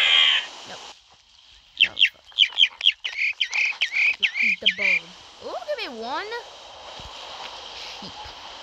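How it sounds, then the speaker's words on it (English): Series of quick chirping, croaky bird calls from a forest simulator video game in bursts, followed by a warbling swooping call, with people talking around them. "Oh, birds!"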